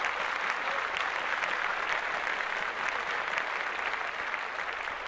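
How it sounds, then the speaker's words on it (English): Steady, even applause from a group continues without a break, moderately loud and close, with no talk over it. "I got to clap that up."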